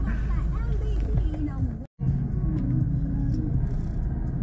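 Steady car and road-traffic rumble on the Talavera Bypass in Nueva Ecija, where the road is under construction. The drone runs continuously with a brief dropout midway, and a person talks over it.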